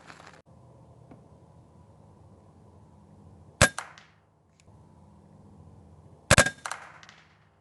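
Two sharp, loud cracks from a .25 caliber air rifle firing JSB Hades pellets at a squirrel in branches, each followed by a quick smacking impact, separated by a few seconds of quiet outdoor hum.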